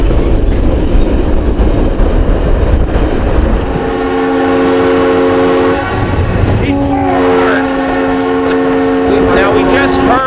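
A train whistle on a railway through the Pennsylvania Grand Canyon in Tioga County sounds in several long blasts over the rumble of the passing train, loud and close.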